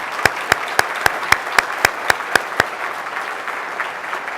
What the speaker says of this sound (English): So I'll give Mr. Resnick a round of applause.